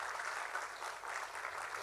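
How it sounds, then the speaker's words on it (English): An audience at a Bharatanatyam arangetram dance performance applauds, a dense, steady patter of clapping heard at moderate distance with no voices over it. "Let's keep clapping,"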